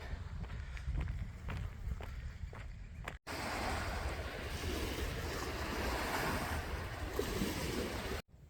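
Surf rolling onto a beach on Hormoz Island, Iran, a steady broad wash with wind buffeting the microphone, after footsteps crunch along the shore; no talk.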